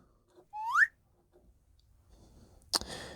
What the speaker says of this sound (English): Let's see what the whistle sounds like.